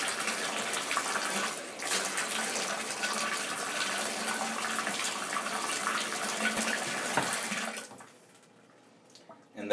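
Water pours steadily from a tap into a bathtub drain being unclogged, a continuous hissing splash that runs for most of the span and then stops, leaving near silence.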